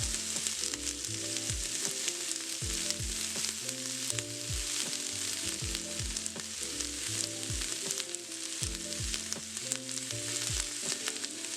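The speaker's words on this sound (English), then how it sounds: "let them saute till they're really brown and cooked all the way through" Onions sautéing in a pan for egg biryani, cooked until deep brown, give a steady, close sizzle with soft stirring scrapes. Looping background music plays over the frying throughout, and no one speaks.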